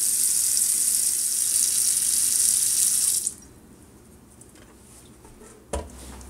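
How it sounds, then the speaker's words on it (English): Tap water running steadily into a cooking pot for soup, a loud close hiss that cuts off abruptly midway, followed by quiet room tone and a single soft clunk. "So we're gonna fill up our pot with water."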